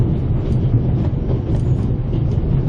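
A steady low rumble and rattle of a train travelling, used as a radio drama sound effect, continuous and fairly loud, with no voices over it.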